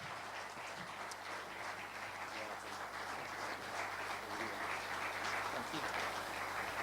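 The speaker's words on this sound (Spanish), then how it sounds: "Le damos un aplauso al Señor" Church congregation applauding steadily, a dense continuous wash of clapping from a large crowd, fairly distant and even throughout.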